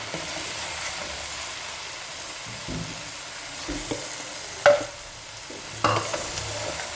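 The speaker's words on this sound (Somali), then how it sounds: "qudaarta iyo baastada haddana isku shiileena" Pasta and vegetables frying together in a pan, a soft steady sizzle with a few brief clinks of utensils stirring.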